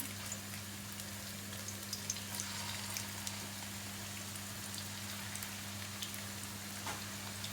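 Chicken meatballs fry in hot oil with a faint, even sizzle and light crackle that runs steadily throughout, no talking over it.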